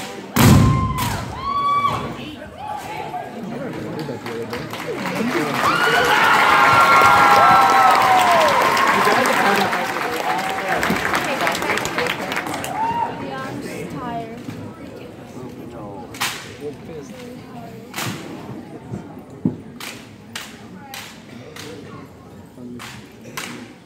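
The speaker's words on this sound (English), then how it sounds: "the drill team members showcase their teamwork with weapon exchanges" Armed exhibition drill team of Air Force ROTC cadets tossing and catching rifles: sharp, loud slaps and thuds, some in quick bursts, over a swelling crowd and applause, with isolated crisp snaps near the end.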